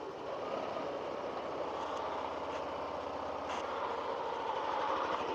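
A Yamaha NMAX scooter engine runs steadily right after an oil change, a continuous close, even idle-like drone with no talk over it.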